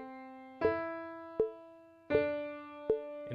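A metronome set to 80 beats per minute ticks with sharp, evenly spaced clicks, each paired with a plucked instrument note that rings briefly, close and fairly quiet.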